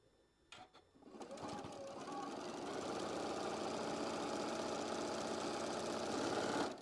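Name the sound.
sewing machine stitching fabric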